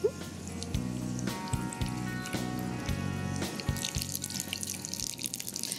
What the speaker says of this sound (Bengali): এই যে পোস্তর বাটিটা ছিল, এই জলটা একটু দিয়ে দিচ্ছি তোমায়